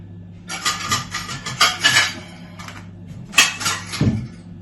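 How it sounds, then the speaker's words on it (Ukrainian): Plates and dishes are handled and rinsed in a home kitchen, with a string of loud, close ceramic clinks and clatters and a softer thud near the end, no talk. "Хочу тарілки ще взяти, а потім одразу змивати."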